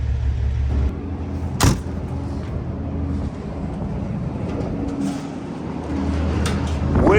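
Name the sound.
strong wind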